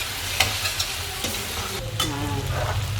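Virudunagar-style mutton pepper chukka stirred while it fries in oil, a steady close sizzle broken by scraping strokes of the spoon against the pan, with no talking.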